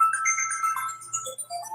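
A melodic electronic ringtone plays from a phone inside a purse during a commissioners' meeting, a bright repeating tune heard clearly over a quiet room.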